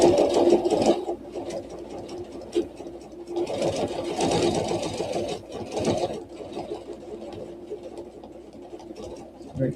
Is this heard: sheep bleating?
no